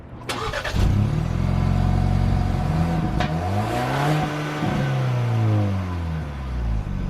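A Ford Bronco accelerates hard on the road, its engine climbing through rising revs with gear changes between pulls, loud and close throughout with no talk.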